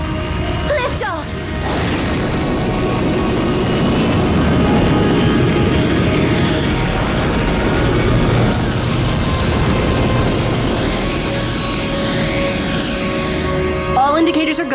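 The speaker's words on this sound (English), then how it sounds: "We have ignition powering vertical" A cartoon spacecraft engine ignites and lifts off with a loud, sustained roar that swells and holds across the clip, framed by brief sharp whooshing effects at the start and end.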